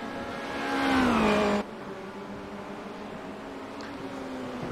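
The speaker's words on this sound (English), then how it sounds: "Just accelerating out of the corner and actually hitting the wall." Formula Renault 2.0 race car in a racing video game, engine note climbing in pitch as it accelerates hard, then cutting off abruptly to a quieter steady hum with a faint click near the end.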